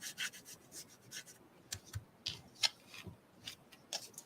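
Paper edge being rubbed to soften it: faint, close, intermittent scratchy strokes in a quiet room, repeated in a loose rhythm.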